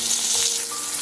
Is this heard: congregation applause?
no